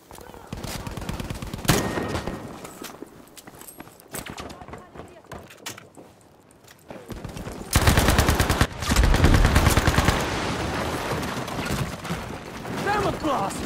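In the Battlefield V video game, rapid automatic gunfire rattles in loud bursts, with scattered single shots and louder sustained firing near the end, while players talk over the action.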